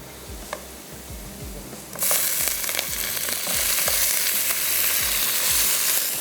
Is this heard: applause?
no